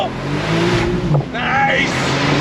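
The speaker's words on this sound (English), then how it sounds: "We're gonna do some launch control." A 991.2 Porsche 911 Turbo S launching under launch control, a loud close engine roar rising in pitch through the gears, with a voice briefly talking over it.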